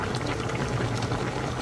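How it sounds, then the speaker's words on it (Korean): Mackerel simmering in a doenjang and gochujang broth boils with a dense, steady bubbling burble, close and moderately loud, with no voices. "고등어 손질되어 있는 거 갖다가 고등어 여기 있죠? 여기 조금 넣고 끓여요."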